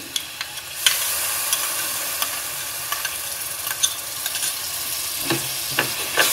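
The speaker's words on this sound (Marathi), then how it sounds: "हे चांगलं आपण परतून घ्यायचं" Masoor biryani masala of coriander powder, cumin powder, red chilli and turmeric sautéed in a pan, giving a loud continuous sizzle broken by occasional scraping stirs, with no speech.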